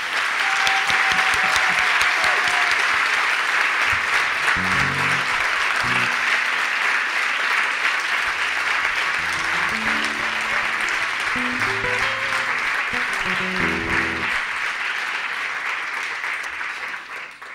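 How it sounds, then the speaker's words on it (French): Sustained audience applause for Alain Ferrand at a small welcome concert, a dense, steady wash of clapping from a full room lasting throughout and tapering slightly at the end, with some brief low tonal sounds underneath. "j'aimerais qu'on applaudisse très fort Alain Ferrand"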